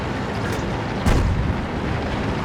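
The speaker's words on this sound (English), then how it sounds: "Taking some artillery fire here, I think." Artillery fire lands in a tank battle video game, a single dull boom bursting out of a constant loud rumble of engine and battle noise.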